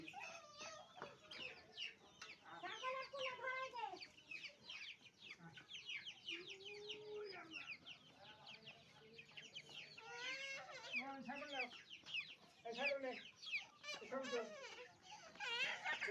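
Chickens cluck and call in a series of short, irregular bursts at moderate distance and fairly low volume, while a voice briefly mixes in among them.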